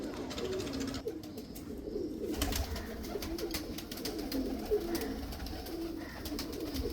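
Salara Teddy pigeons, a rain-type pigeon breed, coo softly and repeatedly close by over a quiet background.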